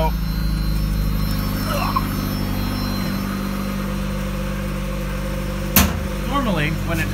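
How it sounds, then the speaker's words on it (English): A 1994 Mazda Miata engine idles cold with its idle raised to about 1500 RPM, giving a steady, close low hum that holds even throughout, with a brief clunk near the end. "normally, when it's cold, the idle will be slightly elevated"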